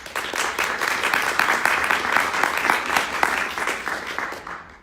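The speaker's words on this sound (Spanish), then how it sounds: "Un aplauso." Audience applause at a panel conversation, dense close clapping sustained for several seconds before fading out at the end.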